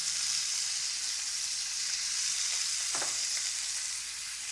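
A chicken breast sautés in hot fat after being turned to cook on its second side. A dense, even sizzle runs loud and close throughout, with one brief stirring knock midway.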